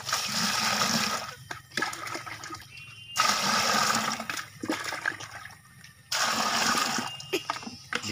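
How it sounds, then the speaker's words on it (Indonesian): Water poured in short bursts into a container to dissolve lime, used in making a palm-sap preservative from jackfruit wood; three splashing pours separated by brief quiet gaps, close and fairly clear. "Sedikit dulu airnya, ya, untuk melarutkan kapurnya ini."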